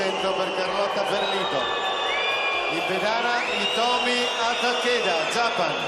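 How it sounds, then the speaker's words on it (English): Crowd noise fills an arena during a women's artistic gymnastics apparatus final in which a Japanese gymnast competes: a steady murmur with scattered whoops and cheers, held at an even level while a commentator talks over it throughout. "has got to contend with just a little bit of noise from the crowd"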